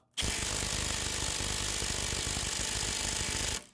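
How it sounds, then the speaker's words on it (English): A DeWalt impact wrench rated at 450 foot-pounds hammers without a break for about three and a half seconds on a bolt of a 2010 Volkswagen Jetta TDI during rear brake work. It is loud and close, with a dense, fast rattle that starts and stops abruptly. "I'm gonna try my small Ugga Dugga gun here from DeWalt"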